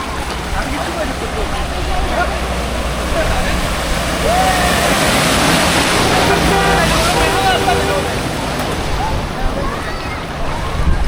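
A vehicle pushes a big wave through deep floodwater on a street in Nalasopara during heavy monsoon rain, giving a continuous loud rushing surge and sloshing of water close by, with wind noise.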